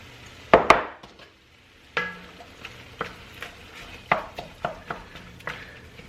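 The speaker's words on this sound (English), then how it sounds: "we're just going to let this onion cook with the beef" Chopped onion cooks with browning ground beef in a pot for taco soup, heard as a few sharp spoon clacks and scrapes against the pot over a faint sizzle, close by and without speech.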